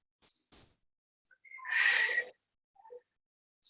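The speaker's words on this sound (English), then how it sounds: "Nice deep breaths." During a workout, a person takes a sharp inhale and then a longer, deeper breath out. Both are close and breathy, separated by brief silences.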